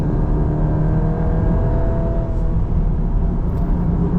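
The engine of a 2025 Volkswagen Golf R running in manual paddle-shift mode gives a loud, steady hum and drone heard from inside the car. It holds fairly constant, with a faint tonal rise part way through and no talking.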